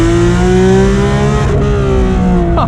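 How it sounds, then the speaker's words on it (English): A 2019 Porsche GT3 RS with PDK gearbox in Sport mode, its engine held at high revs through a downshift, a loud, close, sustained tuneful wail with a brief blip near the end, no talking. "Let's drive the car in PDK Sport for a little bit to see how the PDK system shifts."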